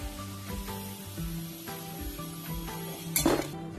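Chicken pieces deep-frying in hot oil for gondhoraj chicken fry make a constant close sizzle over a low hum. A brief louder spray-like hiss bursts near the end, with faint clinks in between.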